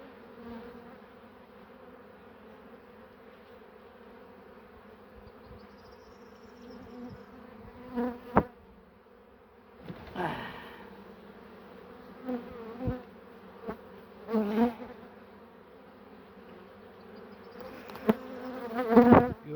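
A steady, low buzz of many bees swarms around an open beehive during a spring hive inspection, with brood comb exposed; the hum holds throughout while occasional closer bees and handling knocks rise briefly above it.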